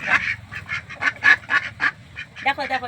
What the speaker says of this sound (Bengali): এই হাঁসগুলো সব আমার